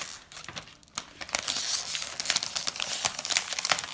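Crinkling and tearing of the packaging as a boxed Apple iPad 8th generation is opened, a close run of crisp rustles and rips that grows busier and louder after a brief quiet moment.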